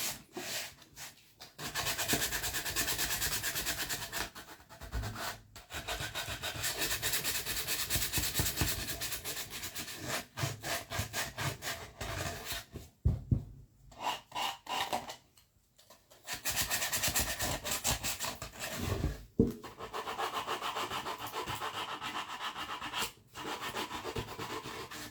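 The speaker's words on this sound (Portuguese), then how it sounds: "eu vou lixar aqui o coração" Hand sanding of a pine heart-shaped candle holder: a close, continuous abrasive rasp in long back-and-forth strokes, broken by a few brief pauses midway before the steady rubbing resumes.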